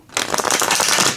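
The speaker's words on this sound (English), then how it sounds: "Alright, shuffle test." A deck of bendy tarot cards with a slightly sticky finish is riffle-shuffled, giving one dense, close burst of rapid flapping and clicking that lasts about a second.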